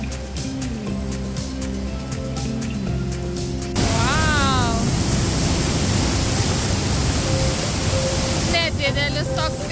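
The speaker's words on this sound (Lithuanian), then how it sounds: "Didelis toks kriokliukas, bet visai galingas." A large, powerful waterfall roars as a steady, dense rush of falling water, loud and continuous throughout, with faint whistling tones drifting over the noise and no talking.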